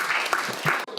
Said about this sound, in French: J'aimerais entendre un grand applaudissement à ceux qui le croient ce matin